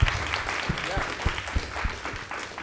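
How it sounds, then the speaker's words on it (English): Audience clapping at a JavaScript developer meetup in Amsterdam after a fireside chat, a steady patter of many hands close by with a few louder claps standing out, and faint voices mixed in. "Let's give it a warm applause,"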